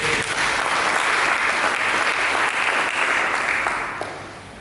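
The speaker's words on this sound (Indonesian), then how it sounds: "Berikan tepuk tangan." A church congregation claps together in sustained, dense applause that holds steady, then tapers off over the last second.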